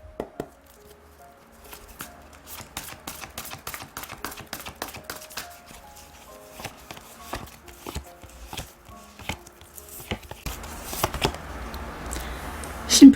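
Oracle cards for a tarot reading are shuffled by hand in a quiet room, giving a long run of crisp, rapid card slaps and flutters in uneven bursts that get busier toward the end.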